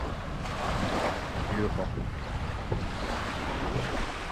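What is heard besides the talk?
ocean waves crashing on the Lower Niagara River shore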